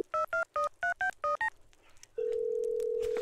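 In the Stardew Valley video game, a telephone dials with seven short, evenly spaced keypad tones, then after a pause a steady, loud dial tone hums on alone.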